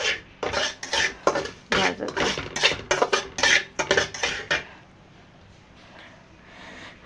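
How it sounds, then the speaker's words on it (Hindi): A spoon scrapes and clatters against a pan while stirring a small batch of semolina halwa, making a quick run of close, rhythmic strokes that stop abruptly, leaving faint room noise. "रवा कमी असल्यामुळे घचक भचक आवाज येत आहे"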